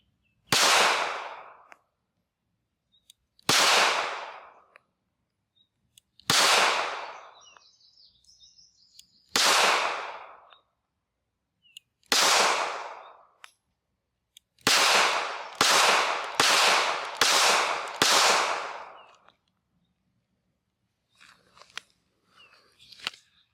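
A SCCY CPX-2 9mm pistol firing one magazine outdoors: loud, sharp reports, five spaced single shots followed by a quicker string of five, each ringing out briefly, then faint handling clicks as the slide locks back.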